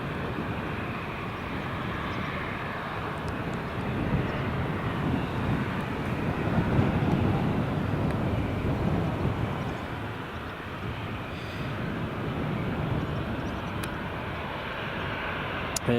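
Airliners, including TUI and EasyJet jets, at Newcastle International Airport produce a steady, broad engine roar that swells gently midway and then eases, continuous and fairly loud throughout with no talk.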